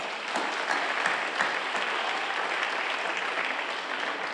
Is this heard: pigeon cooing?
no